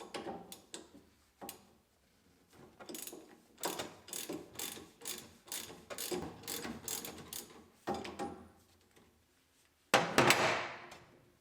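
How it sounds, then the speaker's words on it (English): Steering column and steering wheel are unbolted on a 1965 Ford Mustang: bursts of ratchet clicking and metallic tool sounds, close and fairly quiet, with brief pauses between, then a louder clatter near the end. "Unbolt the steering column. Unbolt the steering wheel."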